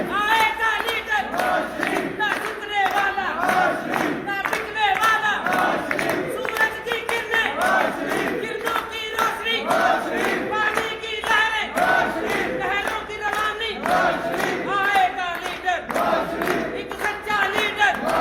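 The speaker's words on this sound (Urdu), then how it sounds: "نوجوانوں نے نواز شریف کے حق میں دل کھول کر نعرے بازی کی" Young Nawaz Sharif supporters at a PMLN gathering in Al Ain chant slogans in unison, a loud crowd shouting in steady rhythmic bursts that repeat throughout, with some clapping mixed in.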